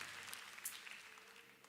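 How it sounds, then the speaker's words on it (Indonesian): Church congregation applauding during an evening prayer service, a dense, steady patter of many hands clapping for under two seconds, fairly quiet and distant with no talk over it. "Beri tepuk tangan buat Tuhan Yesus."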